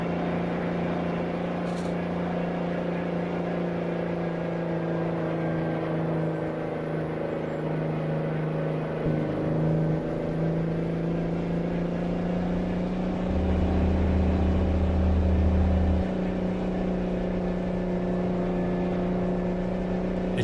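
Diesel truck engine in a trucking video game, hauling a 26-ton trailer of wheat, drones steadily and loudly throughout with a constant low hum and slight rises in load, alone without talk.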